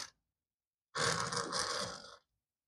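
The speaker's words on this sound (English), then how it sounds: "That is not a good gear lash sound." A Ninco Lightning ProRace Audi R18 slot car gear with bad gear lash gives one harsh, buzzing grind lasting just over a second, close up, between moments of silence.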